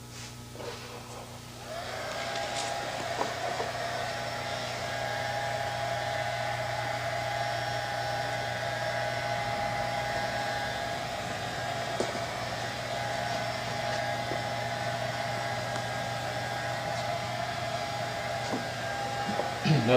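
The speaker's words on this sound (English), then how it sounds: "Spend a little bit of time with the squeegee and the hair dryer, wetting it out and removing the excess off the ends." A hair dryer blows steadily and loudly on an epoxy-wetted fiberglass layup for a Rutan homebuilt composite aircraft, with a constant whirring hum running throughout.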